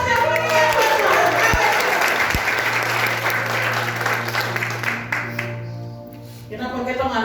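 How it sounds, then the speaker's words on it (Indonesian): A church congregation at a worship service with athletes gives loud, sustained applause and clapping for God, a dense crowd sound with a few sharp knocks, gradually thinning toward the end. "Aplaus yang meriah buat Tuhan"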